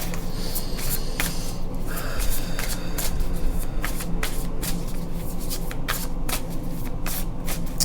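A deck of cards is shuffled close up, with repeated riffling flutters and sharp snaps in quick bursts throughout, with no talking over it.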